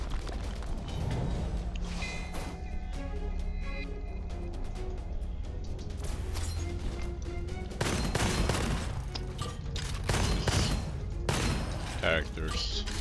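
Steady rapid gunfire from the infinite-ammo starting gun in the FPS roguelite Gunfire Reborn, with booming impacts and game effects layered throughout, continuous and loud over a game soundtrack.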